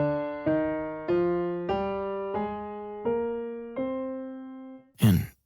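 A single voice sings a natural minor scale as seven sustained notes, each clearly separated, followed by a short breathy exhale at the end.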